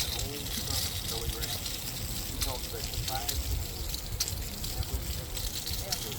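Water gushing and spraying from an RV plumbing fitting whose gasket or O-ring has fallen out, a steady close hiss and splatter with people talking nearby.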